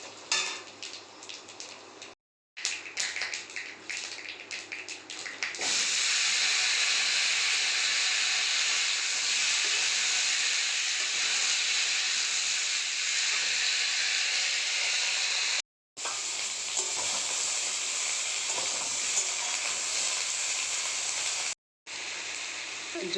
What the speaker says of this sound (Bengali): পাঁচফোড়ন দিয়ে সব সবজিগুলো আগে ভেজে নেব।